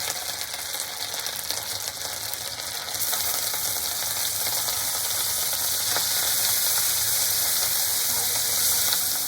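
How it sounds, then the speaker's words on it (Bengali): A thick green pea paste filling sizzles in a hot pan while a spatula stirs and scrapes it continuously, close up. "কড়াইশুটির পুরটাকে আমি অনব্রত নাড়তে থাকবো যাতে তলায় লেগে না যায়"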